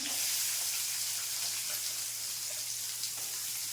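Green chillies, a dried red chilli and onion fry in hot oil for a Tamil spinach and egg stir-fry, giving a steady, dense, close sizzle with no talking.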